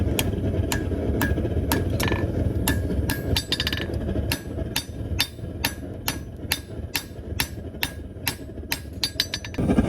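Hammer blows forging a steel knife ring out close and sharp in a steady rhythm, some strikes clustering into quick bursts, over a constant roar of the forge.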